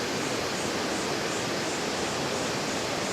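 A waterfall plunging down to a river in Wulai, Taiwan roars as a steady, dense broadband rush of falling water, loud and continuous throughout with no voices.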